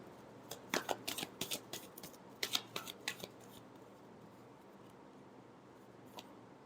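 Tarot cards being shuffled, heard as a quick series of crisp riffling flicks in two close bursts, then quiet with no talk.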